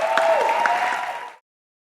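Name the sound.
audience applause for a speaker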